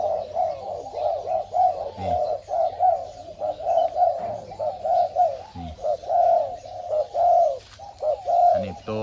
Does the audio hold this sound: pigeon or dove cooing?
yes